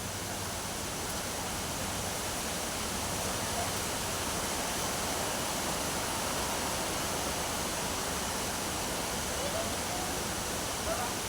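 A river seen from a bridge gives a constant, dense, broadband roar that holds evenly with no pauses or other sounds.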